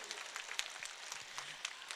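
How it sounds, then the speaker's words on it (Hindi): Audience clapping at a school annual function and prize distribution, a brief stretch of scattered, fairly faint applause from the crowd with a voice faintly present underneath. "जोरदार तालियां बजाइए इनके लिए।"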